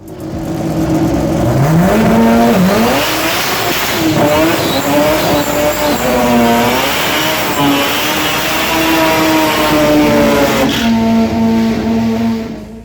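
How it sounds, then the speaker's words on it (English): A 13B rotary engine in a full tube-chassis Mazda RX-8 drag car revs hard and close, its pitch climbing and wavering in repeated sweeps before settling into a steady high drone, loud throughout with no talking. "I've got a 13B Mazda RX-8 full tube drag car."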